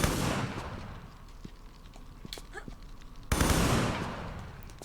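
Enemy gunfire in the Tomb Raider III Gold: The Lost Artifact video game: loud bursts of shots at the start and again near the end, with quieter game ambience and scattered small effects in between.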